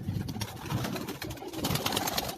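Soft pigeon cooing repeats in low, throaty pulses against a faint background hiss, fairly close and unhurried.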